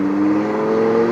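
An Aston Martin supercar engine revving at Curborough sprint course, a loud, close, sustained tonal engine drone held steady for about a second.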